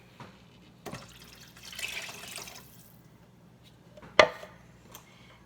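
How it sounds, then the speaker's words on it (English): Water poured into a cooking pot, heard as a soft, close splashing and trickling over a faint background hum, with a brief clunk near the end. "I'm going to add the water"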